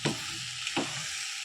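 Vegetable palya of mixed vegetables frying in a pan with masala, a steady sizzle broken by two brief scraping stirs, close and fairly quiet with no voices.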